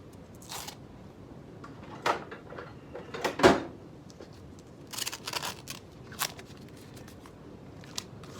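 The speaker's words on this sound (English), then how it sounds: "I'll just trim it off roughly now, just with the scissors" Scissors roughly trim masking tape during motorcycle restoration work, a few sparse, quiet snips and clicks spread out over a faint background, with one louder cut near the middle.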